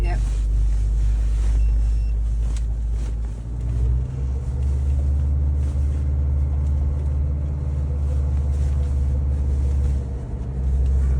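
An off-road vehicle on road tyres driving over wet grass at a country fair, a heavy continuous engine rumble with wind buffeting, recorded from inside, while people talk over it.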